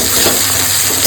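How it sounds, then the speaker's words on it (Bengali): Crushed garlic and a little ginger are stir-fried in a pan for a salted hilsa dish, a close, steady hiss of sizzling oil with faint stirring, brief and uninterrupted. "সমস্ত কিছু ভালো করে এবার কষাবো।"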